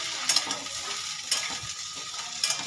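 Finely chopped okra tossed into fried onions sizzles steadily in a pan, with a few sharp clinks of a spoon stirring against the metal, close and fairly quiet.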